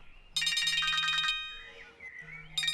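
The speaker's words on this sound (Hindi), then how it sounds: "अरे एक मिनट रुको, फोन बज रहा है मेरा।" A mobile phone rings with a bright repeating electronic tone in two loud bursts, a short pause between them, then starts again; no voices.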